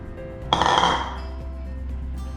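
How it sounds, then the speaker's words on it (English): A utensil strikes a bowl as glue mixture, water and borax are mixed into slime, giving one sharp, bright clink followed by a fading ring over a quiet, steady background. "you're gonna pour the glue mixture into the first bowl with the water and the borax, and just mix that together"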